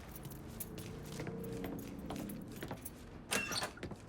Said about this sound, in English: Keys in the other room. Grab them so we can get the hell out of here.